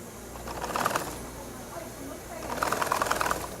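Cam-guided smocking machine stitching with elastic thread in a New York embroidery factory, giving a rhythmic mechanical clatter that swells in two bursts over a steady background hum, with voices speaking over it.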